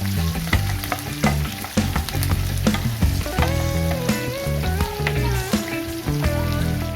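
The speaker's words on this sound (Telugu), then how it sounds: "4 వెల్లుల్లి, 1/2 కప్పు ఉల్లిపాయ ముక్కలు, 4 పచ్చిమిర్చి ముక్కలు వేసి ఫ్రై చేసుకోవాలి." Garlic, chopped onion and green chillies frying in oil give a busy sizzle with stirring noises, mixed with melodic background music.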